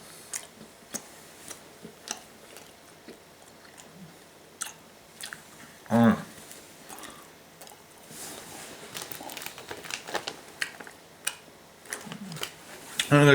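Someone chews a giant piece of gum close up, with quiet, sporadic wet smacks and clicks, plus a few louder crunchy bursts.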